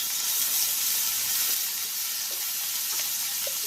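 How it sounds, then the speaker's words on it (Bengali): Chopped onions frying in oil for a prawn bhuna, a continuous bright hiss of sizzling with faint stirring ticks, steady and close. "পেঁয়াজটাকে হালকা ভেজে দিয়ে দিব জিরা বাটা।"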